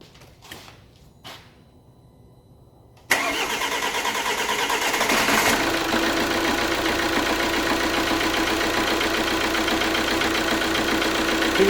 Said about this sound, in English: So now, hopefully, we can just start the engine up.